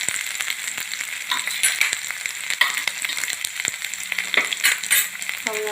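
Asafoetida and ginger-chili paste fry in hot oil with a steady crackling sizzle, broken by a few clinks and stirring scrapes of a utensil in the pan.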